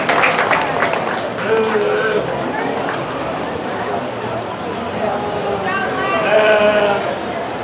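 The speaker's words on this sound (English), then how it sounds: "Let's give him another nice round of applause." A round of applause ripples through the audience at a youth sheep show, mixed with sheep bleating and a murmur of chatter, moderately loud and steady.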